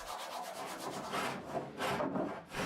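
Wood blocks for egg-shaped bow and stern handles on a kayak build are rounded with rough sandpaper, producing repeated scratchy rubbing strokes in an uneven rhythm, close and fairly quiet.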